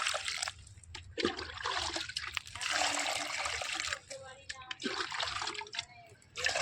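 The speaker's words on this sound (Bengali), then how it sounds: "উচ্ছে গাছটার মধ্যে জল দিয়ে দিলাম" Water trickles and splashes steadily onto a potted bitter gourd plant in a home garden, a continuous pouring stream with brief dips, close by.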